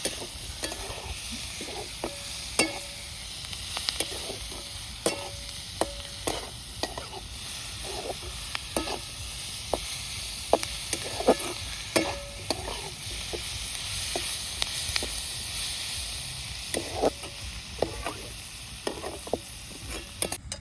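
Onion and chili fry in a pan with a steady sizzle, while a utensil stirs and scrapes through them in repeated clicks and taps at close range, with no talking.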